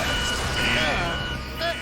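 A few electronic beeps ring out over a rumbling, noisy background, a short repeating alarm tone rising and falling, in the Power Rangers Cosmic Fury series.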